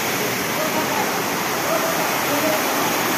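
Rushing river water near the Maya Khola hydro dam in Dharmadevi Municipality makes a dense, steady, loud roar that fills the whole clip without a break.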